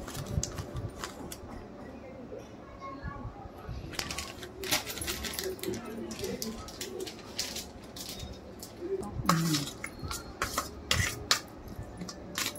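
Mozzarella cheese is stirred into a bread pocket snack filling in a bowl, giving quiet, irregular clinks and scrapes of a utensil against the dish over a soft background hiss, with a few louder knocks scattered throughout.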